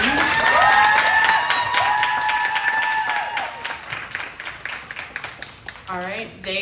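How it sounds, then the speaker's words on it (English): An audience at a book festival panel claps steadily after the session, dense applause that fades gradually as a speaker talks over it and then takes over. "Can we give them a round of applause, please?"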